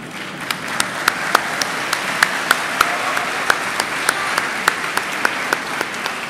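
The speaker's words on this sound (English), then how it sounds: "give our teachers a round of applause" Applause for teachers from students standing at a graduation dinner, a steady crowd clapping with a few individual sharp claps punching out in a regular rhythm.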